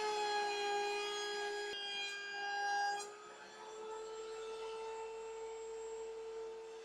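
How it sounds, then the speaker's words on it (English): A router table fitted with a large round-over bit shapes the edges of clamped wooden boards from found lumber, giving a steady, loud, high motor whine with a rasping cut that shifts in pitch partway through. "I ran them both through the router table"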